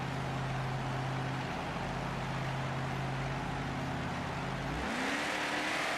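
Diesel race trucks at a drag race at Arrowhead Stadium, a loud steady engine drone that suddenly shifts and rises near the end as the trucks launch.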